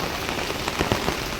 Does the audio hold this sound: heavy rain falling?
yes